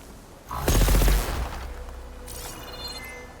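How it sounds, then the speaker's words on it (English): A single heavy cannon blast in Horizon Forbidden West booms loud and close, then rolls off into a long fading rumble with some clatter at the tail, with no one talking over it. "Okay, so it's just a cannon."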